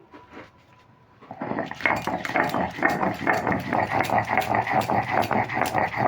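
Green chili and small shrimp ground on a stone slab, a fast steady rhythmic scraping and knocking of stone on stone that starts after a quiet moment and continues loud and close.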